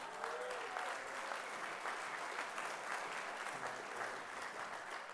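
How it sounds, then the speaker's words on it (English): An audience at an inaugural celebration gala applauds its evening's sponsor: dense, steady clapping from many hands fills the room evenly for the whole stretch, without letting up or rising. "Then you should give your applause to Steve Hanley"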